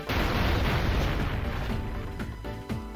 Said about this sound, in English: We'll go ahead and use the Crush Puff because explosions!